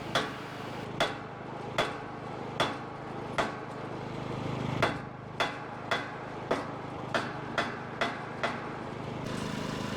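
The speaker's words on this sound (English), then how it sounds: "maybe they need a large hammer to help it along." Sharp blows from a large hammer strike a tight-fitting post in a steady rhythm, about a dozen in all, with a short pause partway through, over outdoor background noise while building a woolshed.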